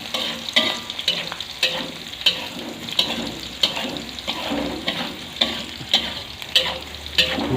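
Spice paste of chili and galangal is stir-fried for oseng pindang with basil, giving a steady sizzle broken by regular scraping stirs in the pan, close and continuous, with no voices.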